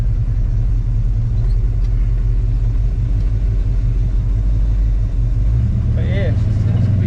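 A 1946 Chevy pickup engine idles warm with its cooling fans running, a steady low rumble that holds throughout at close range, with a brief higher mechanical whine near the end.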